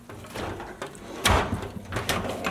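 A drawer in a garage toolbox slides open with scraping, rattling clatter and one heavier knock midway, close by and moderately loud.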